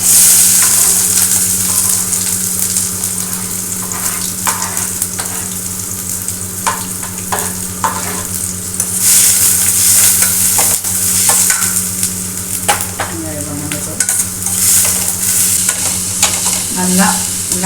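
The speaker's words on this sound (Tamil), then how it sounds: "நல்லா லைட் ப்ரௌனிஷாக வதங்கட்டும்." Onions fry in oil in a pan with a loud, continuous sizzle. Stirring scrapes and clacks punctuate the sound throughout, and no voices are heard.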